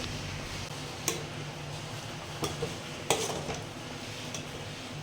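Fried spice paste is stirred into cooked khichuri of rice and golden moong dal in a pot, with a soft continuous scraping hiss, a faint sizzle and a few sharp spoon clinks against the pot.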